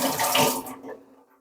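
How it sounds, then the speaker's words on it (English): Water from cooked corn and peas is strained through a sieve, a short rushing splash of draining liquid that tapers off into a few soft drips. "you can take a sieve like this and you can just strain the water with the sieve"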